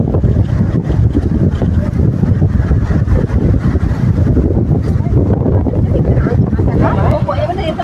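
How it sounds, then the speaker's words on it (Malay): Strong coastal wind near Desaru Coast in Kota Tinggi, Johor, roars and buffets the microphone in a loud, continuous rush for the whole stretch, with faint voices half-buried beneath it. "Angin dia memang kuat sangat."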